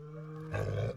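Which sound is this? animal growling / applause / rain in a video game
animal growling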